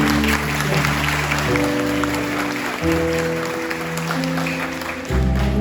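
Applause for the fathers at a Father's Day church celebration, clapping mixed with loud sustained musical tones underneath, a continuous wash of hands over shifting notes.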